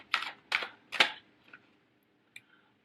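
Tarot cards are shuffled close up: three crisp, papery snapping bursts about half a second apart, then a softer flick and a lone tap after a pause, in a quiet room without speech.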